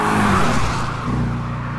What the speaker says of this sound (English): That V8 engine puts power to the pavement in a way that thrusts this car into the D dimension.